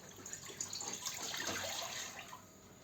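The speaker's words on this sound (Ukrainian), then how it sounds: "вливаємо пів літри води" Half a litre of water poured from a tap or jug onto margarine while making dough, giving a steady, moderately faint splashing stream that lasts the whole moment with no one talking.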